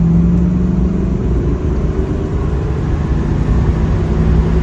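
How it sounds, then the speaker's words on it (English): A Ford Mustang engine pulls hard at full throttle in second gear, a loud, steady droning rumble with a rising tone, heard from inside the car. "I'm gonna do a little full throttle run here."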